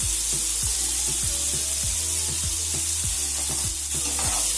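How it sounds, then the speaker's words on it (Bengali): Potatoes being stirred and fried with salt and turmeric in a pan, a loud, dense sizzle close up with a steady train of rhythmic thumping stir strokes throughout. "লবণ আর হলুদটাকে আলুর সাথে নাড়াচাড়া করে মিশিয়ে নিচ্ছি"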